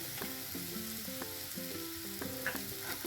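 Aloo katli potato slices with finely chopped fresh coriander sizzle steadily as they are tossed in a hot pan, with a soft melody playing underneath.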